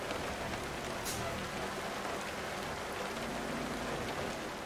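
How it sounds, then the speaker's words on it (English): Steady rain falls on a hard surface at a truck loading stop, a dense continuous patter with scattered louder drops throughout, fairly close and even in level. "And it's raining."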